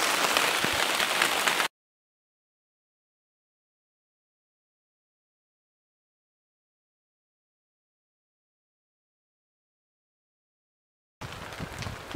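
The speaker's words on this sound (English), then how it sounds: "it's raining like a hell." Steady hissing rain patters at the start and returns after a long stretch of silence, on the French River's old Voyageur Channel; no voices.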